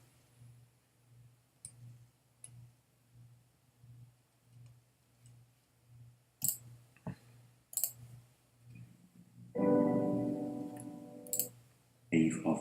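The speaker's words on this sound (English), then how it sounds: "Let's type this one." Sparse, faint clicks of typing on a computer keyboard, spaced irregularly under a low steady hum, followed by a short burst of voice near the end.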